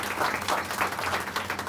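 Steady applause from an audience at a public library grand opening, a dense wash of clapping filling the room without a break.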